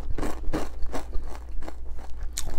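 Crunchy fried chicken wing being bitten and chewed up close, a run of crisp crackling crunches in quick irregular succession with no talk.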